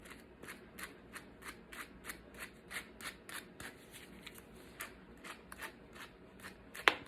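A brush gently works through a matted patch of a dog's fur in quick, regular strokes, a soft rhythmic bristly scratching close by, ending with a sharp click.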